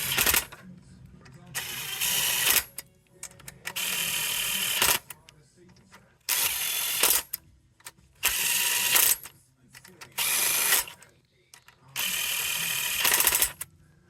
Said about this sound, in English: tighten them up in a star pattern